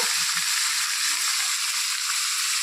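A paste of ginger, green chilli, garlic and onion frying in a pan for a goat meat curry, a loud continuous sizzle that stays even throughout, with a few low thuds at the start.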